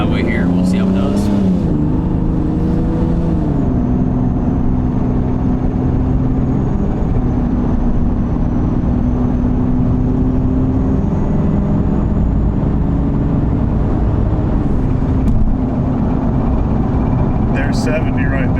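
A supercharged car fitted with a recirculation blow-off valve drives onto a highway, its engine drone rising and shifting in pitch under steady cabin noise while people talk over it.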